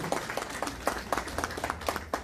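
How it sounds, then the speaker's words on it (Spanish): Scattered audience applause at a charango talk, a modest crowd clapping unevenly at moderate distance for a short burst. "para quien pido fuertes palmas, por favor, don Borischa, maestro del charango"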